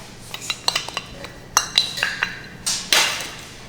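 A herb grain salad with parsley is mixed in a bowl, producing a run of close metallic clinks and scrapes from utensils against the bowl, irregular and fairly loud.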